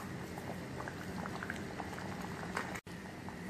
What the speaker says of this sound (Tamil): இப்போ குழம்பு நல்லா கொதிச்சிருச்சு